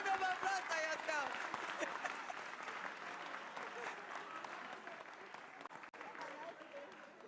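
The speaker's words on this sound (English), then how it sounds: "A round of applause for yourself." An audience at an agriculture symposium giving a long round of applause, fairly faint and diffuse, with steady dense clapping that thins slightly toward the end and some voices mixed in.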